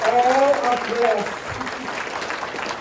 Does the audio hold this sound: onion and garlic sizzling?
no